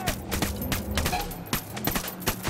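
Rapid gunfire from a Ghost Recon firefight, repeated sharp bursts in quick succession at close range, loud over a busy game soundscape with faint background voices.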